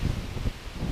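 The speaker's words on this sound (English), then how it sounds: "We have 25 mile per hour to 30 mile per hour winds" Strong gusting wind of 25 to 30 mph buffeting outdoors, a loud low roar and rumble across a brief moment with no other sounds.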